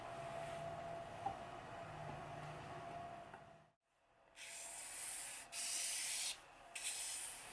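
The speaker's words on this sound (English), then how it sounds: "we just wrapped it in 1000 grit sandpaper, and we're just going to gently go over the bevels" A steel-backed piece of 1000 grit sandpaper rubs gently over the bevels of a Wharncliffe knife blade, producing a steady, soft scraping hiss in several strokes separated by brief pauses.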